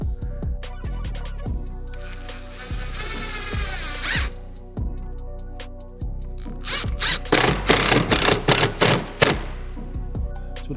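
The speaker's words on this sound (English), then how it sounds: "we're just gonna have to run screws into the frame, and it's a plastic frame underneath here" A power tool drives screws into the plastic frame under aftermarket carbon side skirts on a McLaren 570S, with whining motor runs, ratcheting clatter and thumps, ending in a loud, close burst of spins.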